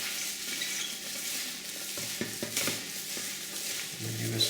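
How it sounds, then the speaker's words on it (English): Pig skin salad being mixed with spicy sauce in a bowl, giving soft wet squelching and stirring sounds in irregular bursts, fairly quiet and without talk. "Give us a good mix."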